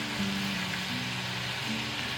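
Pork ribs pan-frying in a little oil over medium-low heat, a steady close hiss of sizzling with a low background hum throughout.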